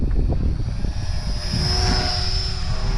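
A WLToys XK A250 BF-109 RC toy plane flies overhead, its small electric propeller motor giving a loud, continuous buzzing whine that holds steady for the whole stretch, with no voices.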